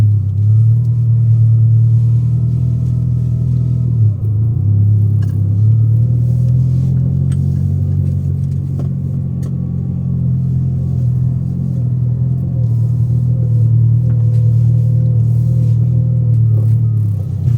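A 2004 Mini Cooper with a 1.6-litre 116 hp petrol engine and 178,000 km on the clock idles steadily, a loud, low, even engine rumble with slight waver throughout, close by, no speech.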